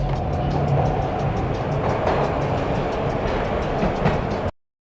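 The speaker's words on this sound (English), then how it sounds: "This was my second train ride of the night." Train ride in the PS2 video game Max Payne, a loud, steady rumble of a moving train with faint clattering that runs unbroken before cutting off abruptly near the end.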